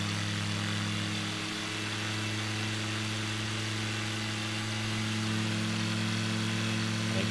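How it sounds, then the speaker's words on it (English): The aircraft engine in Microsoft Flight Simulator 2020 drones steadily throughout a low flight over an Australian city, a continuous humming engine tone at moderate level without talk. "And you can hear the engine going"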